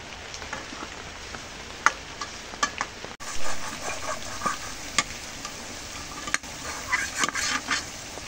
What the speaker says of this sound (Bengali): আস্তে নাড়া লাগবে।